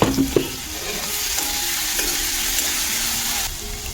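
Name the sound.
onion frying with salt on low flame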